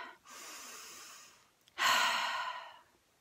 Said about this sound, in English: I want you to take a breath in and out